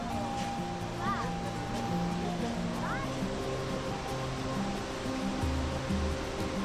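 Shivanasamudra waterfall near Mysore, a steady broad roar of falling water heard from a distance, with a few faint bird-like chirps and background murmur over the continuous rush.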